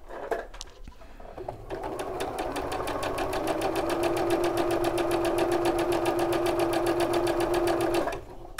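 Domestic sewing machine stitching a patchwork block, a few handling clicks, then a rapid, even run of stitches for about six seconds, loud and close, ending abruptly.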